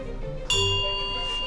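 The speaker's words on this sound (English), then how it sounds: "The bells." A bell strikes once and its bright, sustained ring lingers and slowly fades over a low background hum.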